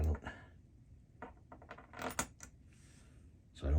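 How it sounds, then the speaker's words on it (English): A double-edge safety razor being put back together with an M5 nylon washer, giving a few small, close metallic clicks and taps with quiet pauses between them. "Let me put that razor back together"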